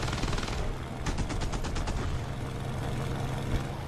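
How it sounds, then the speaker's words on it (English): Aircraft guns firing in War Thunder as heard from inside the cockpit: loud, rapid automatic bursts with distinct shot pulses over a constant engine drone, continuing for about four seconds. "Let's see what the weapons sound like from inside the cockpit."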